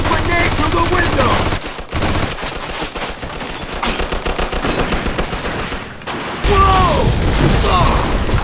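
Sustained machine gun fire in Mafia II: Definitive Edition rattles loud and close in long continuous bursts, broken by a brief pause and the clank of mechanisms before the shooting resumes.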